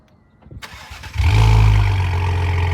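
A police-build Ford Explorer ST cranks and fires after a quiet second of faint clicks, then settles into a loud, deep, steady idle with a strong low rumble that holds to the end.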